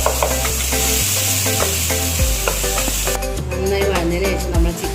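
Blended tomato puree from four tomatoes poured into a pan of sizzling sautéed onions, with loud continuous frying crackle and sputter plus stirring and scraping of the pan throughout.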